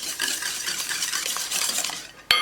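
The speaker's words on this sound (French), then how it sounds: "Et là, on fouette." Eggs and sugar are whisked briskly in a large bowl, making a rapid, continuous scraping swish close by, cut off by a sharp clink at the end.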